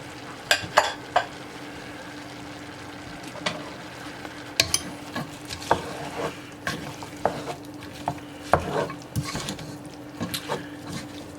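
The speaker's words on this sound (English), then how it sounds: "we're going to have a little bit of saute down time again" Onion and carrots sauté in a pot with a soft, continuous sizzle under scattered clicks and scrapes from stirring. The sound is fairly faint and close, with no speech.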